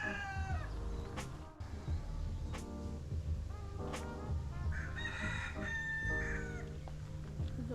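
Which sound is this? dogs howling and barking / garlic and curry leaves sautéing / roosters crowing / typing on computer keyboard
roosters crowing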